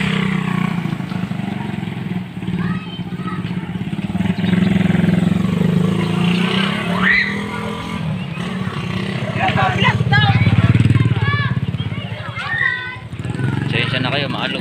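A motorcycle rides along a grassy rural route, its engine a steady, rumbling drone under frequent talking and children's voices, growing louder midway before easing off.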